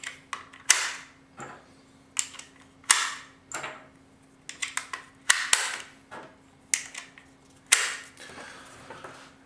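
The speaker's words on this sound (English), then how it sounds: "taking your rounds out of the box and just individually loading them in" Rifle rounds pressed one at a time into a metal AR-15 magazine, giving a steady series of sharp metallic clicks and snaps, close and isolated in a quiet room.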